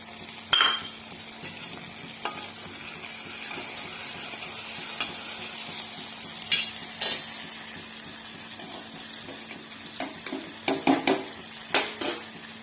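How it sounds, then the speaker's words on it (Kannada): Vegetables for green pulao fry in a pan with a low, steady sizzle. A spoon stirring them knocks and scrapes against the metal in clustered clinks. "ಇದೆಲ್ಲನೂ ಫ್ರೈ ಆಗಬೇಕು ವೆಜಿಟೇಬಲ್ ಎಲ್ಲ ಫ್ರೈ ಆಗಬೇಕು"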